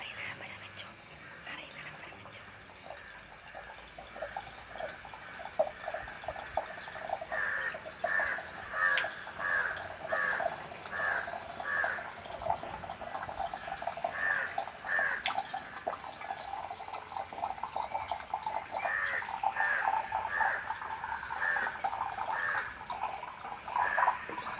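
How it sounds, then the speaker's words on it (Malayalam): Water poured slowly and steadily into a bowl set up with sand and shells, a soft continuous trickle with light dripping and gurgling, close and fairly quiet, running for the whole stretch without talk. "നമ്മൾ പതുക്കെ പതുക്കെ വെള്ളം ഒഴിക്കും."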